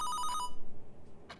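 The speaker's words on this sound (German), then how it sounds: "Das Telefon läutete und unterbrach meinen ängstlichen Marsch." A telephone bell rings in a quick, loud burst of rapid trills for about half a second, then stops, leaving a quiet room with a faint rustle near the end.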